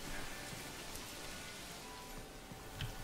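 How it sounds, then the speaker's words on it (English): Steady soft rainfall in the medieval city-building video game Manor Lords, a faint continuous hiss of rain with no other distinct sounds. "it's not my fault it's raining."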